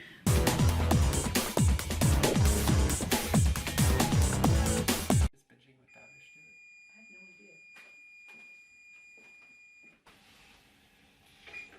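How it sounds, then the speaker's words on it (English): A kitchen oven timer sounds during cookie baking as one steady, high electronic tone lasting about four seconds. Loud music plays before it, and faint sounds and voices are heard around it. "off the timer and turn off the oven."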